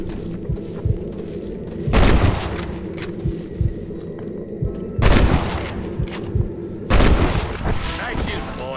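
Gunshots in a cowboy game, three loud, sharp bursts of gunfire with booming echoes spaced a few seconds apart over a low continuous background rumble.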